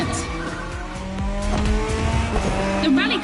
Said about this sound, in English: The rally car has already changed its course to reach the dirt.